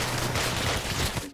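A unit in the Hex of Steel strategy game fires a shot, heard as a loud burst of dense, noisy gunfire sustained for about a second, then cutting off.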